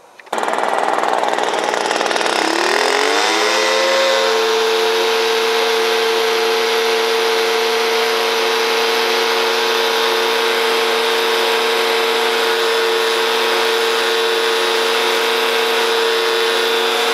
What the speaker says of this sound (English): what you're doing is just blowing a path of wood chips aside or leaves aside to get down to your dirt